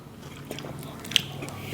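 Someone chews a mouthful of pork belly cooked with bamboo shoots, close soft crunching and squishy bites with one sharper crunch, and no talking over it.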